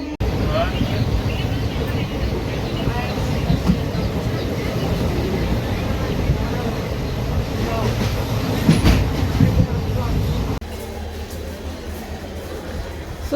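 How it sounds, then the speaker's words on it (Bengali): A train rolls along the tracks with a loud, close, continuous rumble and rattling clatter from inside the carriage for about ten seconds before the noise drops away abruptly. A voice talks over it. "এই যে ট্রেনে থেকে জাস্ট নামলাম।"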